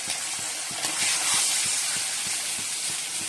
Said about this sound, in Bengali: ইলিশ মাছগুলো ভেজে দিচ্ছি